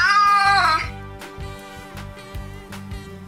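Cat meows played from a cat translator app as a 'come here' phrase: a loud, drawn-out synthetic meow up front, followed by softer rhythmic tones.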